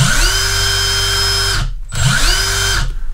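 A Milwaukee M18 Fuel 1/4-inch impact driver running on its third setting, with two loud, close bursts of high motor whine that ramp up gradually, separated by a short silent gap, with no talking.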